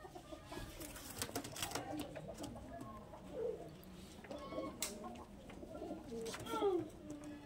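Green-eyed Madras pigeons coo in a low rolling pattern, with a few sharper bird calls mixed in. They sound fairly faint against background noise while people talk nearby.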